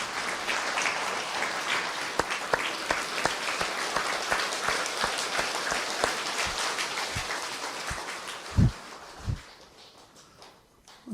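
An audience claps together at a spiritual gathering, a steady dense patter of many hands that slowly thins and fades, ending with a few louder knocks near the end.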